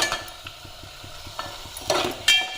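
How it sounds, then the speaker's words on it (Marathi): Whole garam masala spices, ginger, garlic and onion frying in oil for a chicken dish, a soft sizzle with a few light stirring scrapes and clinks close by. "तेळामध्ये अद्रक आणि लसूण टाकलं आहे त्याच्यानंतर कांदा टाकला आहे आता टाकते इथे अख्खा गरम मसाला"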